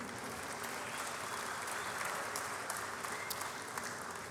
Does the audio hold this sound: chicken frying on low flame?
no